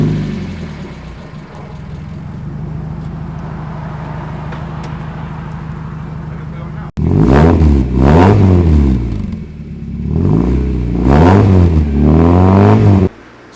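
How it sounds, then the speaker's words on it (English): A Mazda MX-5 Miata NA with its stock exhaust idles steadily, then its engine is revved several times in sharp rising and falling bursts, loud and close, with no talk. "let's see if we can get some few revs so we can compare the difference between the sound"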